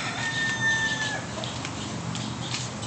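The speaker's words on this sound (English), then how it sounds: "Chicken." A chicken calls out in a short, drawn-out cry outdoors among farm fowl, fairly close and alone against steady background noise, with no talking.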